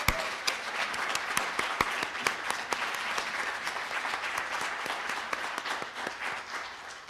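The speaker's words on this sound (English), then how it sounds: "So if we could, a round of applause to our staff." Sustained applause from an event audience honoring staff at a 50th anniversary celebration, dense irregular clapping with sharp individual claps standing out, steady and fairly loud throughout.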